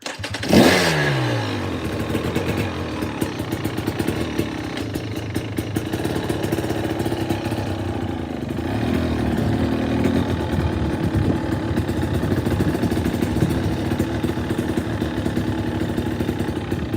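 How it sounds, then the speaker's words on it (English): Dirt bike engine starting with a sharp rise, then settling into a steady, loud, close idle that runs continuously for the rest of the stretch, with no talk over it. "let's fire up and go for a little ride."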